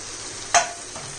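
Marinated mushroom pieces drop into hot frying masala with one loud burst of sizzle, fading quickly to a quieter steady fry with a small second crackle near the end.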